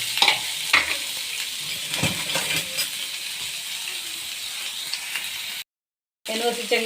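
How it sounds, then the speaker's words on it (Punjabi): Ginger garlic paste frying in a pan with cumin and asafoetida for masala baingan, giving a loud, steady sizzle with stirring scrapes throughout, a brief dropout near the end, then the sizzling resumes. "ਅਸੀਂ ਇਹਦੇ ਵਿੱਚ ਹੁਣ ਪਾਵਾਂਗੇ ਜੀ ਅਦਰਕ ਲਸਣ ਦਾ ਪੇਸਟ ਤੇ ਇਹਨੂੰ ਚੰਗੀ ਤਰ੍ਹਾਂ ਭੁੰਨਾਂਗੇ"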